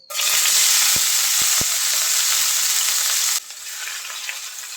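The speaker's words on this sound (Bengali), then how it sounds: "করলা প্রথমে একটু ভেজে নেব" Bitter gourd (karela), seeded and cut, fries in hot oil. A loud, dense sizzle is broken by a few sharp stirring knocks, then drops to a quieter fry after a few seconds.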